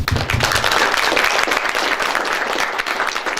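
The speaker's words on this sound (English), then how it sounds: "I guess you guys deserve a round of applause for yourself" A room of people clapping for student presenters at a finance research competition in Mongolia, dense close applause with a brief low murmur at the start, continuing strongly to the end.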